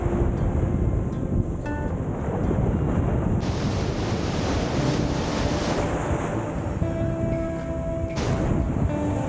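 Large ocean waves at Waimea Bay on Oahu's North Shore rumble and wash in a continuous loud roar, heavily mixed with gusting wind buffeting the microphone.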